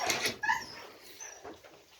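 An Akbaş puppy whimpers and whines in short, high, close cries, with a few yips in quick succession over about two seconds.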